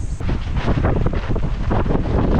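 Strong gusts of wind buffet the microphone outdoors beside a campervan, a loud continuous rumbling roar with no voices.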